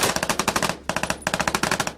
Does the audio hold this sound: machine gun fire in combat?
yes